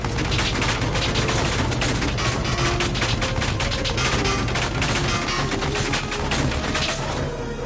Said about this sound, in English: Wait for the rifle and fire!